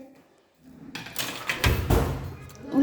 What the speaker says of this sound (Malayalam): ഫ്രീസർ ഒന്ന് ക്ലോസ് ചെയ്ത്